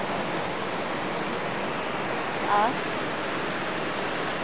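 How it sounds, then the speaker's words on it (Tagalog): Heavy rain pours down during a storm in Bacolod City, a dense, constant roar of water that fills the whole clip, broken only by a brief voice exclamation. "Oy, gabagyo diri sa among lugar."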